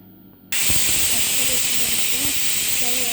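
A pressure cooker holding avial with jackfruit and yam bursts into a loud, continuous steam hiss after a short quiet moment, with a faint voice audible beneath it.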